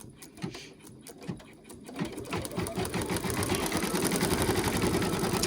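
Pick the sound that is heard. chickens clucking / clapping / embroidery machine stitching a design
embroidery machine stitching a design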